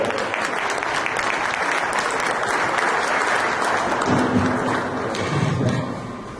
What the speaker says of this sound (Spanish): para que le dé un aplauso fuerte,